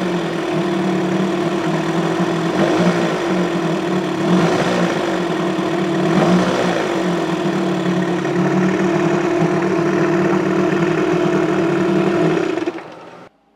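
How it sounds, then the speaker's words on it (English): A 1969 Johnson 20 hp outboard motor, brought back after more than five years unused, starts from cold and then idles steadily, a loud, close and continuous engine drone that stops abruptly at the end. "I'm going to give it just a little bit of rollover, not much. Starts up real nice."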